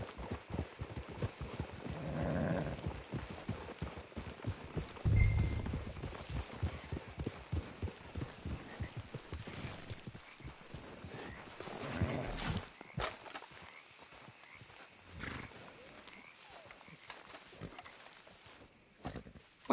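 Horses in the video game Red Dead Redemption 2, their hooves sounding as steady close clip-clop footfalls for most of the stretch, rhythmic and moderately loud, thinning out toward the end.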